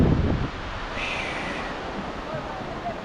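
A sea breeze buffets the microphone at the seaside as waves wash in, making a continuous broadband rush with a brief louder gust at the start.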